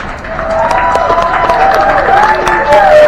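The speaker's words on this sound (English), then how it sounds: "we all have to give him a big round of applause" Crowd cheering and applauding at the reveal of a restored 1980s-era PATransit trolley, number 1713, with whoops and shouted voices rising over steady clapping, loud and close throughout.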